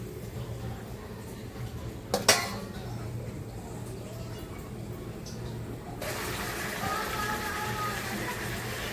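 A lid is set down on a cooking pot of liver and gizzard curry, giving one brief metallic clink over a steady low kitchen hum, followed later by a soft rising hiss.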